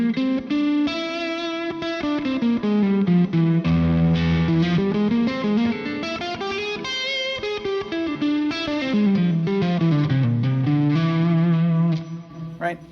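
An altered scale rises and falls on an instrument run through distortion and chorus effects, a thick, continuous, loud line with no talking over it.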